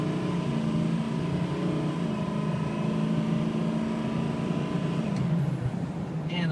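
2006 Ford F250 King Ranch 4x4 diesel pickup accelerating from a stop, a steady close engine drone with a rising turbo whine and a faint hiss near the end, no talking over it.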